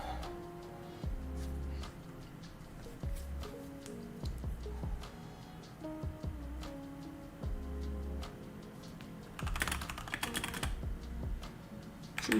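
Rapid typing on a computer keyboard, with clear clicks and clacks in quick bursts and short pauses, close and prominent with no voices.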